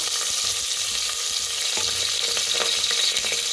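Cumin, asafoetida and long-sliced onion fry in hot ghee and oil in a pan, a steady close sizzle with crackling pops running throughout, no voices.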